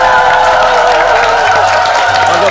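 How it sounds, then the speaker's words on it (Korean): A dense, loud wash of crowd applause and cheering greets Atomy chairman Park Han-gil at a company event, sustained and unbroken from start to finish. "몽상 박한길 회장님 큰 박수로 만나볼까요?"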